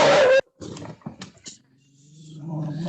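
A dog gives a loud close bark, then lower growling and grumbling sounds that rise into a sustained rumble, heard alone without talk.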